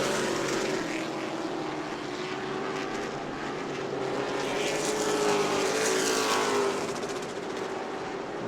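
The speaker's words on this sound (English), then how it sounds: "the longtime racer David LeBeau, pulls that pretty car to the pit road." Race cars drone at speed around the New Smyrna track at the Prelude to the Cup event, a dense continuous engine roar with a wavering pitch that swells and fades slightly as the cars pass at a distance.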